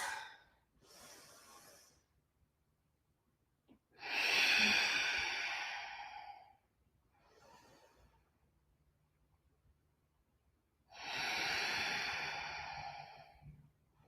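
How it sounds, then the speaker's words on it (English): Slow, deep breaths during a vinyasa yoga class, several long airy inhales and exhales separated by quiet pauses, close and soft with no speech over them. "Deep breaths."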